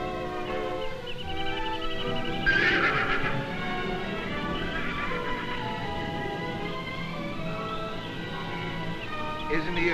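A horse whinnies amid background music and voices, a bright rising neigh standing out briefly before fading back under the mix.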